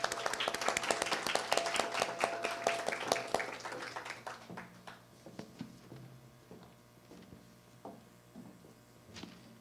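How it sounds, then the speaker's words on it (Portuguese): A studio audience at a political interview event gives a round of applause that starts as dense clapping, then thins over a few seconds into scattered individual claps and fades out. "Uma salva de palmas,"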